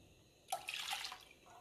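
Water pours briefly into a pot for instant mashed potatoes, a faint splashing burst of about half a second that trails off into quiet dribbles.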